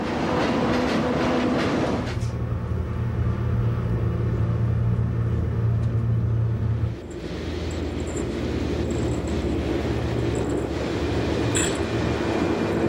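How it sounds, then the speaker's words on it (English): Swiss Glacier Express train descending on a rack railway in Graubünden under braking, a steady low rumble with clanking wheel and rack noise that shifts partway through, heard alone without voices. "With the rack now helping with the braking of our train, we begin to descend."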